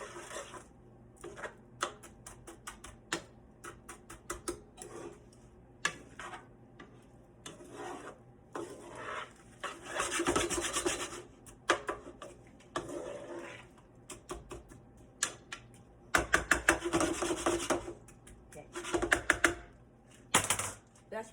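Vegetables stirred in a pan make scattered scraping and rubbing strokes, some brief and some longer, at moderate loudness with quiet gaps between them and no talk.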